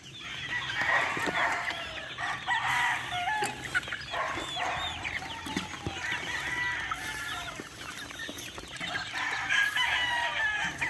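Chickens cluck and chicks peep steadily on a farm in Calamba, Laguna, with a rooster crowing amid the dense, close flock chatter throughout.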